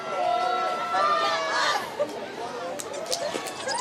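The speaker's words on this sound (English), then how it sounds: "this crowd is absolutely raucous now" Raucous crowd in the stands at a high school football game, a loud steady roar of cheering and chatter with whistling tones rising above it.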